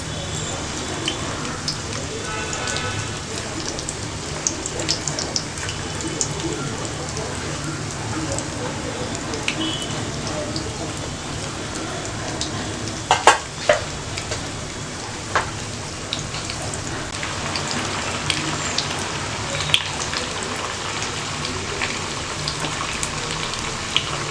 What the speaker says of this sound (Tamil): இப்போ எண்ணெய் காஞ்சிடுச்சு. நம்ம சேப்பங்கிழங்கு பொரிச்சுக்கலாம்.